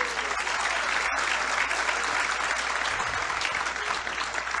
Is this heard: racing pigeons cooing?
no